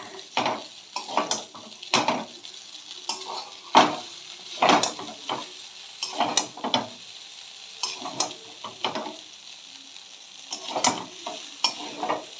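Maggi noodles with chunks of fried egg and coriander leaves are stirred in a pan. A utensil scrapes and clinks against the pan in quick, irregular strokes over a soft sizzle, close and clear, with no talking.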